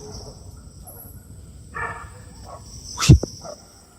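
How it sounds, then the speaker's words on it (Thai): A dog gives a couple of short barks around the middle, fairly distant, over a quiet night background in a cemetery with faint insect hum. "หมาก็ยังเห่า"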